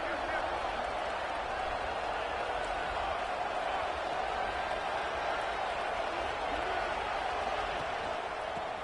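Stadium crowd noise in a college football video game, a continuous dense roar at a fairly faint, even level, with a commentator talking over it.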